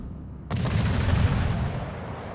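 Naval gunfire in a warship video game: a sudden heavy boom that breaks in and rumbles on as a loud, sustained roar of shots.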